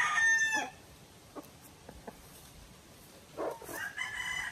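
A large rooster crows loudly at the start, followed by a few brief clucks and another rising crow near the end, outdoors against a quiet hiss.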